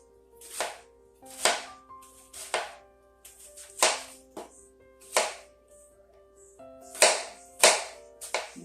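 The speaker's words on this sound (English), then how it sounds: "Just rough cut half an onion." A knife rough-cutting half an onion on a board, about a dozen crisp, separate chops in an uneven rhythm, close and clear with no talking.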